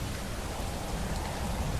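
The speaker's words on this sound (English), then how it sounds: "Notice the lightning and all that in the background, and the heavy rain pour." Heavy rain from a thunderstorm in the game Skyrim Special Edition, a steady broadband downpour hiss that stays even and loud throughout, with no voices.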